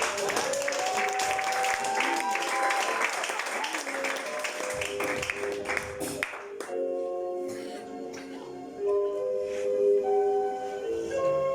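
A church congregation applauds and cheers loudly for Jesus during a French-language women's ministry service, dense clapping and shouts for about six seconds, then giving way to sustained singing or music with voices.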